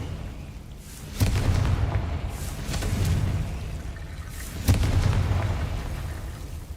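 A Confringo blast spell goes off in a video game as two sharp, booming explosions a few seconds apart, each followed by a rumbling tail over a low background.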